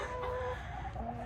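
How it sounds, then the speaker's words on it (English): Several backyard hens, among them Polish hens, cluck softly and intermittently at close range in a quiet coop setting. "we have Babka, one of our Polish hens"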